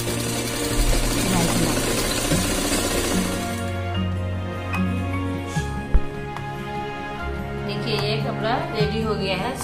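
Sewing machine stitching the fabric of a kurti, a steady mechanical whirring hum that pauses and restarts, close by, with a voice heard at times.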